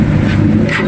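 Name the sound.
car engine running, 2007 model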